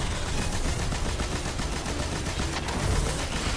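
Gunfire in Destiny 2 as a raid team shoots at a boss's leg, a dense, continuous barrage of overlapping rapid shots and impacts, moderately loud throughout.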